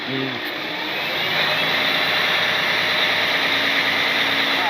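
A knuckle boom crane's diesel engine runs steadily on auto throttle outdoors, a loud continuous drone that rises slightly in pitch after the first second and then holds.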